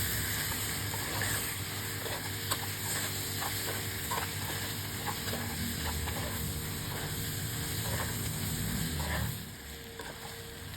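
Shrimp stir-fried with salted egg sizzle steadily in a hot pan, a continuous close hiss with scattered scraping stirs, then the frying noise drops abruptly near the end.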